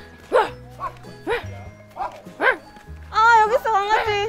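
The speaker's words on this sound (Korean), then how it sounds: "아, 여기 있어 강아지." A puppy gives several short high yips and barks, close and fairly loud, then a longer whining run of yelps, with people talking and laughing around it.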